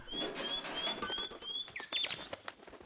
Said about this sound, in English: That was very quiet, but the bird delivered it.